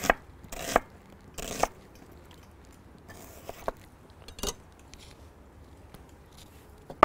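A knife cuts an onion into rings and half rings for a spicy pepper fish tray, giving a handful of crisp, irregular chops on a board with quiet pauses between them.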